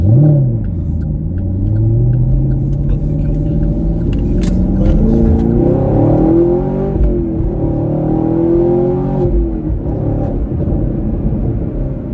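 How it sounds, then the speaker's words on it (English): A 2019 Camaro SS 1LE with stock exhaust revs and rumbles steadily, pitch rising and falling with throttle, with a few sharp exhaust crackles scattered through; loud and close. "for a stock exhaust, it actually snap, crackles, and pops quite frequently"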